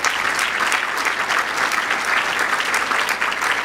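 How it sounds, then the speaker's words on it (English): A large audience breaks into loud, sustained applause, many hands clapping in a dense, continuous roar that holds steady from start to finish. "I think this deserves a big round of applause."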